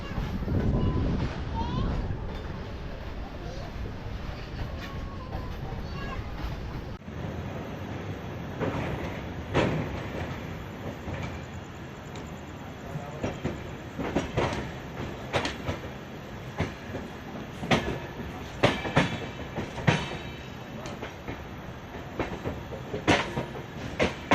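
A Balurghat–Sealdah Express passenger train runs along the rails, its steady rumble broken by sharp, repeated clickety-clack wheel knocks that grow louder and more frequent toward the end, with faint voices in the background.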